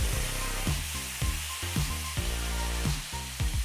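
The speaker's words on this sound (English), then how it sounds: "What we're going to do now is brown it on each side for about 90 seconds each time." Pork tenderloin sears in hot oil in a cast iron pan, giving a steady close sizzle broken by repeated short knocks and scrapes as the meat is handled.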